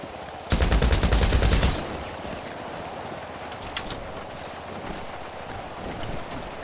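Rapid burst of gunfire in a video game, a loud dense rattle of shots lasting about a second, as the player fires out a window, followed by quieter background noise.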